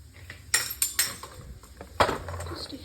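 Metal dishes and pots clatter nearby, a handful of sharp clanks and clinks spaced irregularly, with one loud bang partway through.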